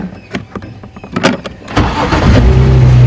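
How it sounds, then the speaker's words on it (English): The engine of a safari vehicle on a morning game drive at Djuma Game Reserve cranks after a few clicks and knocks, then catches and settles into a loud, steady idle close by. "I thought for 1 second that the car wasn't going to start."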